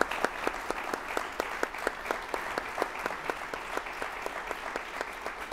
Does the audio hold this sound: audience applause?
yes